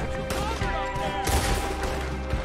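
A burst of rapid gunfire from the video game Red Dead Redemption II, with overlapping shots in a loud, dense volley. Someone talks over part of it.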